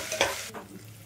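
Semolina balls lightly fry in a pan, a brief close sizzle with a quick scraping stir that fades to a softer hiss.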